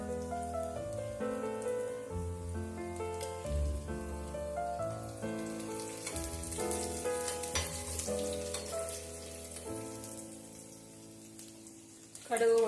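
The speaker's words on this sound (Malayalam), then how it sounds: "കടുക് പൊട്ടാൻ തുടങ്ങി." Mustard seeds crackle and splutter in hot oil in a pan with fried onion, a busy sizzling patter heard beneath prominent background music.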